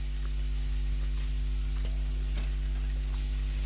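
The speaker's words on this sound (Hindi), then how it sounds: "देखिए इस तरह से चलाते हुए लो फ्लेम पर भूनकर हम तैयार कर लेंगे।" Tomatoes frying in a pan over a low flame give a soft, steady sizzle, with occasional faint scrapes and clicks from stirring and no voices.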